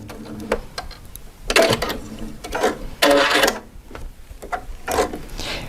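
A sewing machine stitches a leader cloth onto fabric edge for a hemmer foot with red thread, running in several short bursts of rapid ticking clatter separated by pauses, close and fairly loud, with no talk.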